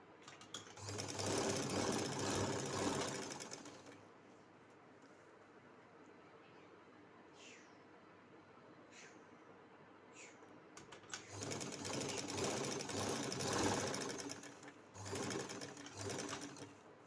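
A sewing machine runs in two loud, steady bursts as it stitches a kurti seam alongside embroidery. A quieter pause comes between the bursts and holds a few faint chirps.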